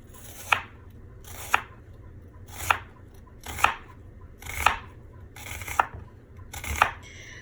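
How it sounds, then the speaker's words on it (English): An onion chopped with a knife on a board, seven crisp, evenly spaced cuts about a second apart, close and clear over a low background hum, no talk. "Now I'm gonna just chop up my onion"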